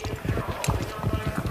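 Horses' hooves clip-clop in a quick, steady rhythm, fairly close and moderately loud over a busy background.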